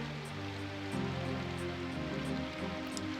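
Steady rain falls in the Symphonic Rain video game, a soft continuous hiss that runs alone with no voices, joined midway by a low sustained background tone.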